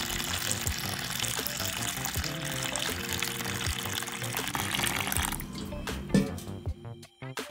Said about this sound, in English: I will now pour enough water to cover the beans and I'll leave it to soak overnight.